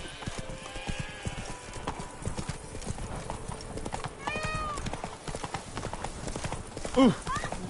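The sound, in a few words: horse Roach's hooves in video game The Witcher III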